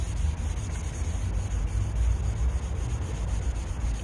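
Sandpaper rubbing over metal body filler putty on a car fender under corrosion repair, a steady close scratchy hiss with an even back-and-forth rhythm throughout, no voices.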